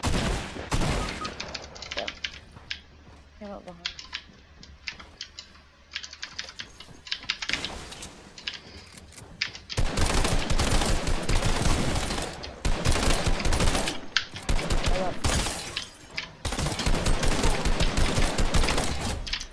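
Burst SMG fire in a video game, rapid clusters of shots under constant keyboard clatter, growing denser and louder in the second half of the clip.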